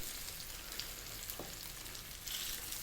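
Rohu fish pieces frying over medium heat in a pan of oil, a steady, fairly faint crackling sizzle that holds throughout with a small flare near the end, and nobody speaking.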